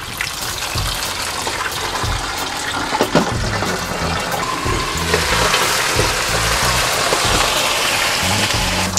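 Water poured into a hot pan of deep-frying pork belly for lechon kawali sets off a loud, steady, rushing sizzle and bubbling that fills the clip, with a few sharper pops.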